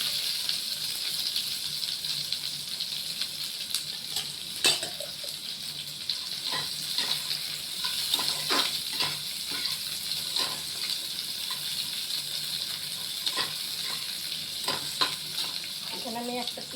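Chopped onion and garlic sizzle in hot oil in a pan, a steady close frying hiss with occasional stirring clinks and scrapes throughout.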